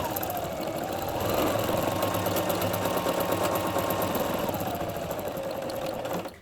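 A Viking Onyx 25 sewing machine stitching a buttonhole, its motor whirring steadily with a rapid needle chatter, rising in pitch, then slowing and fading out at the end, close and continuous with no talking.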